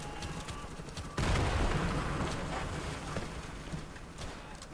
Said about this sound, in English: Got a machine gunner.